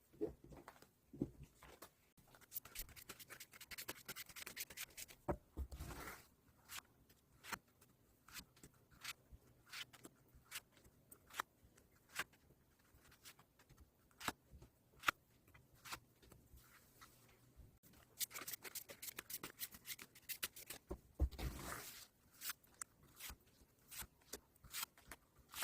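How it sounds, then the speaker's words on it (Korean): Tarot cards are shuffled quietly and close by, soft riffling and sliding with scattered taps, brisker bursts around the middle and near the end. "그럼 카드 셔플 진행해 보도록 하겠습니다."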